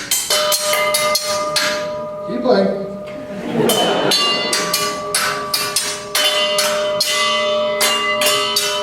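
Homemade percussion of metal bowls and tied wrenches is played together by a group, giving dense, ringing metallic clangs and bell-like tones in an uneven rhythm, with a brief spoken voice in the middle.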